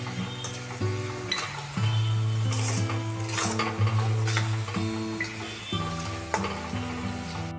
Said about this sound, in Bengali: মশলাটাকে আমি পেঁয়াজের মধ্যে মিশিয়ে 2 থেকে 3 মিনিট ভালো করে কষিয়ে নেব।